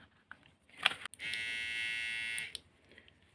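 A broken electric trimmer razor with its attachment missing buzzes steadily for about a second and a half, loud and close, between brief handling clicks before and after.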